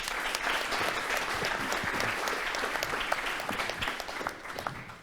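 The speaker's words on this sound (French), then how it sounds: "On l'applaudit." Applause from the audience at an environmental science conference panel, a full, sustained round of clapping that holds steady for several seconds and thins slightly toward the end.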